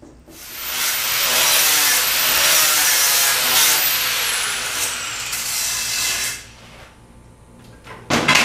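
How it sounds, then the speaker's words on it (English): A metal-cutting saw bites through steel tube for a time attack roll cage's diagonal bracing, a loud continuous whine and grinding lasting about six seconds before stopping, followed by a brief clank. "I'm going to feed this one into the saw here"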